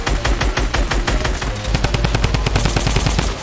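Rapid automatic gunfire from players in a Fortnite match, dense bursts of shots crackling close and loud in quick succession with no talking over them.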